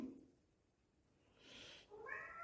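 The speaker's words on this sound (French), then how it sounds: "Quand le chat veut sortir et qu'il fait miaou, il faut aller lui ouvrir la fenêtre." A house cat meows to be let outside, faint and somewhat distant, first a short low call, then a rising, drawn-out meow in a quiet room.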